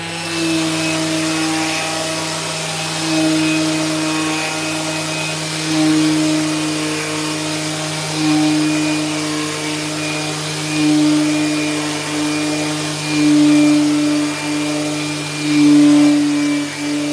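A power sander works oak shaker panels, a loud, steady electric whine and hum with a constant tone that swells slightly now and then and runs throughout without talk.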